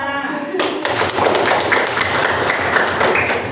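A class of primary-school pupils claps together in a classroom, a dense burst of many hands that starts abruptly after a brief quiet moment and carries on steadily and fairly loudly to the end.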